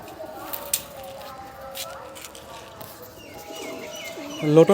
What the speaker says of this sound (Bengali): সুন্দর পায়রা ভালো হয়েছে পায়রা দারুণ সরু পা আছে